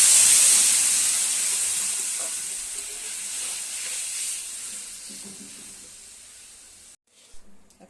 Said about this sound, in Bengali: এবার আমি এর মধ্যে ডালটা ফোড়ন দেব